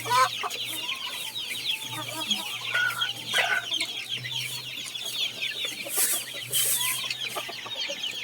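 Hens cluck steadily in a busy coop, overlapping soft calls with a low steady hum underneath; no talking.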